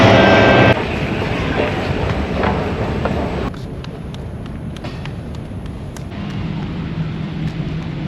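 Singapore metro train running steadily with a broad rumble and rail noise, loud and continuous throughout, shifting in tone midway as the ride goes on, with no talking.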